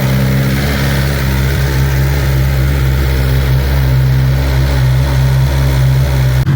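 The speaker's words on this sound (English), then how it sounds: "I got the engine running so you can see" A BMW motorcycle engine running at a steady idle, a continuous deep, loud rumble with a constant low drone and no variation in pace throughout.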